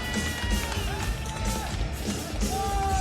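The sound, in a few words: crowd cheering for fighter Brandon Soto after the fight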